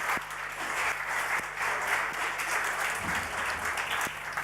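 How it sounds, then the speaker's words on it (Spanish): Audience applause for two speakers at an innovation event, a dense, steady wash of many hands clapping that fills the room continuously. "Vamos a darles un aplauso a Javier Martín y Mariano Torresilla."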